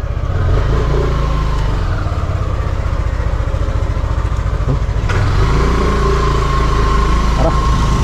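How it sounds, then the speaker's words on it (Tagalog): Motorcycle engine running loud and close, a steady rumbling idle with slight revving throughout, while people talk over it. "Kala ko pa ayaw mandar ng motor ni Utol"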